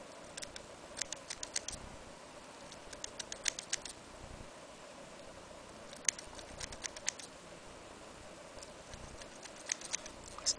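Scissors trim a dog's thick coat during grooming, faint quick snipping clicks in short irregular clusters over a quiet background hiss.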